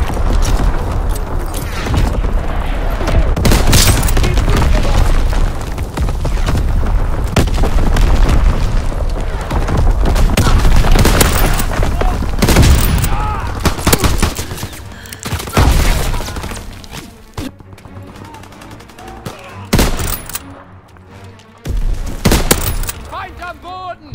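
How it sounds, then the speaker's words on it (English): Incoming enemy artillery in the World War II shooter Call of Duty: WWII, with loud, dense booms and blasts crashing almost continuously and thinning into scattered hits near the end, mixed with game voices. "Incoming enemy artillery."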